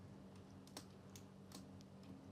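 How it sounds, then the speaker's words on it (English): Quiet typing on a computer keyboard while configuring a CentOS 7 server, a handful of sparse, soft key clicks spaced irregularly over a low steady hum. "I'm going to press enter from here and I will type"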